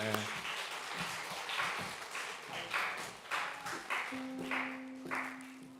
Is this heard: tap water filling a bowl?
no